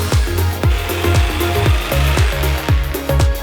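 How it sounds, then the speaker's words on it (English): Jigsaw cutting small wooden wedges for a wooden mallet, a series of loud, rhythmic rasping strokes repeating roughly every half second, close up and alone. "We're gonna cut it with a jigsaw"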